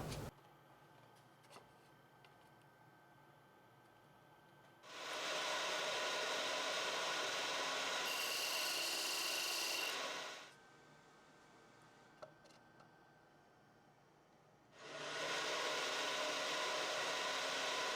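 A parting tool cuts into a maple or mahogany box on a wood lathe to widen a recess, in two loud, sustained hissing bursts separated by a quiet pause with faint ticks.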